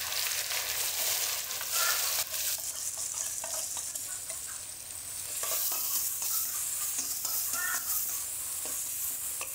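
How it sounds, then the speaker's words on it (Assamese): Chopped tomatoes are stirred and fried in hot oil in a kadai for an Assamese fish curry, giving a continuous close sizzle with spatula scrapes and bursts of spitting. "বিলাহীখিনি অলপমান ভাজি ইয়াতে মই"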